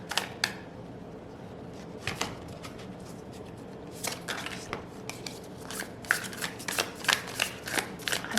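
Tarot cards being shuffled by hand in a series of soft, papery riffles and bursts, sparse at first and then faster and more frequent toward the end, close to the mic with no talking.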